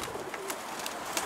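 Soft pigeon cooing over faint outdoor background noise, a few brief low calls close by.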